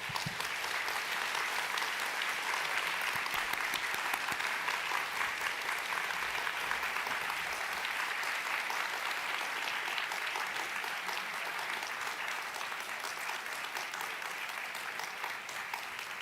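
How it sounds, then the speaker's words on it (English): A large audience at a business school undergraduate graduation ceremony gives sustained, steady applause, dense clapping at an even level for the whole stretch with faint crowd murmur beneath. "join me in giving them a thunderous applause"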